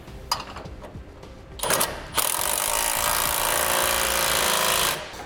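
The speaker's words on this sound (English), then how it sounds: "Now using a 3/4 inch socket and wrench, we'll tighten up our bottom clamp strap bolts." A 3/4 inch socket and wrench tighten the bottom clamp strap bolts of a fifth wheel trailer hitch on a 2008 Ford F-450. A few sharp metallic clicks come first, then a loud, steady, rapid mechanical rattle runs for about three seconds.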